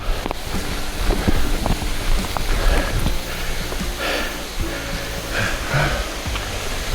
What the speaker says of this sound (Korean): 와, 폭포 꽤 높네. 꽤 높다. 여기가 방사폭포.